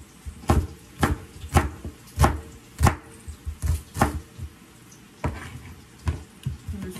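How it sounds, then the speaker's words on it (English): A knife chops collard greens lengthwise on a cutting board in a series of sharp, close knocks, about a dozen strokes in a loose, uneven rhythm with short pauses between them. "I'm just going to cut them"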